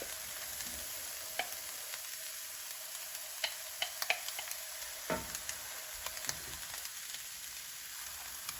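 Fresh pressed garlic frying in a hot skillet: a steady, moderate sizzle with scattered sharp crackles and pops, heard without any talking.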